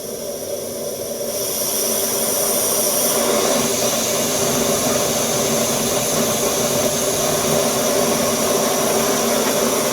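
An MSR Windburner and a Whisperlite Universal camping stove roar together at full burn. The steady, loud, broadband hiss swells over the first two seconds and then holds constant, with no talk.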